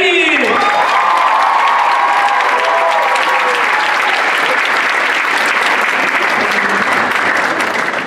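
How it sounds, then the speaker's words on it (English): Loud, sustained crowd applause with some cheering and a voice at the start welcomes Dr. Abdul, a physician and candidate for governor of Michigan, at an arts event. "Please help us welcome Dr."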